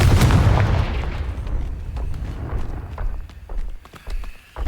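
A Confringo blasting spell in Hogwarts Legacy lands as a loud, booming explosion at the start that fades into scattered clattering impacts and thumps.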